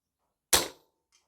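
A single sharp, close report from a Daystate Alphawolf air rifle, a quick crack with a short decaying tail and faint after-noise, otherwise quiet.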